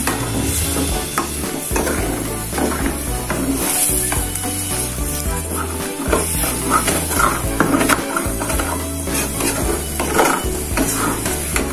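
Spice paste for Betawi-style opor ayam sizzles loudly and steadily in a pan, with a dense continuous frying hiss and occasional scraping and stirring knocks throughout.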